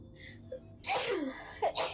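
A person with allergies lets out a sharp, close sneeze after a soft breath, followed by a second burst right after, during a tabletop role-playing game session.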